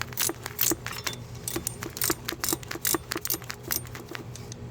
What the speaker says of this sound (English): If I can get my torque wrench in here, I'm going to torque this to 35 foot-pounds.